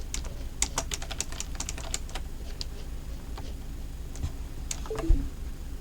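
Keyboard keys clack in quick irregular bursts inside the office video game The Stanley Parable, a cluster of crisp close taps followed by sparser presses and a soft thud near the end.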